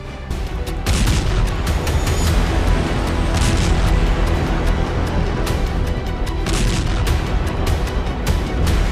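Repeated heavy booms and blasts from an airstrike on Syria pound continuously, loud and dense, like explosions from a bombardment, with sharp cracks scattered among the rumbling.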